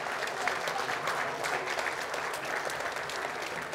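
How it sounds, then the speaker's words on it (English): A church congregation claps together in a dense, steady burst of applause, fairly loud and evenly sustained from start to finish, with a few voices mixed in. "Turn around, and clap."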